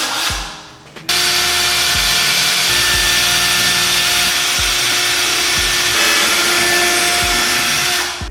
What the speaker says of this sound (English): So I'm gonna go ahead and drill some holes.